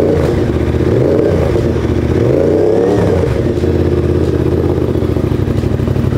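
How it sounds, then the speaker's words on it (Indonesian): A motorcycle with an Akrapovic exhaust revs loudly up close, its deep throaty note rising and falling in repeated throttle blips with a rattling idle between. "suara knalpot Akra"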